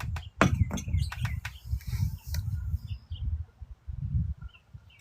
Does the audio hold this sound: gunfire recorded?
no